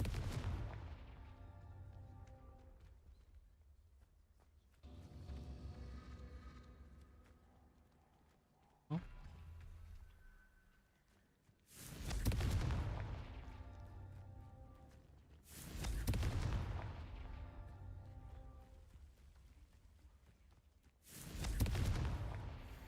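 Hogwarts Legacy gameplay with Confringo spell blasts, several loud booming explosions with long decaying rumbles spaced a few seconds apart amid softer combat and game sounds.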